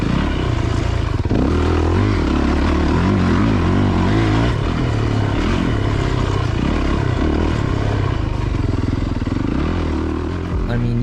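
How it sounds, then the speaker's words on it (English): A 450 dirt bike lugs along a sand track at low throttle, its engine a loud, close, steady low thumping drone with slight rises in pitch, while someone talks over it. "you can hear how small amount of throttle I'm using actually, and how I'm just lugging it around, especially on the 450"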